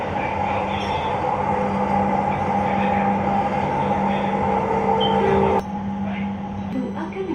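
An LRT Jabodebek train rolls along with a steady rumble and a sustained metallic tone, then the sound drops abruptly near the end as it brakes into Kuningan station; faint voices in the background.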